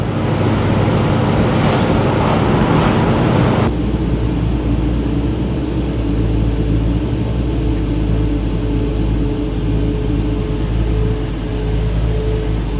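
A 525 hp LS3 V8 fitted with a Holley fuel system idles in a 1971 Pontiac GTO pro-touring build, a steady low rumble partly buried under heavy wind noise that is loudest during the first few seconds.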